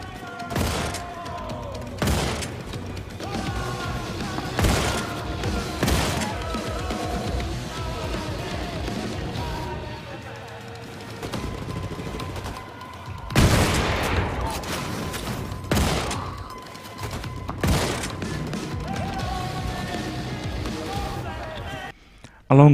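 Gunfire and explosions from the first-person shooter Wolfenstein II: The New Colossus burst in loud, repeated volleys with heavy booms, set against a continuous game soundtrack and occasional talk.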